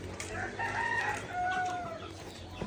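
A rooster crows among chickens on a quiet farm, two drawn-out calls heard at a moderate distance over a steady background hum.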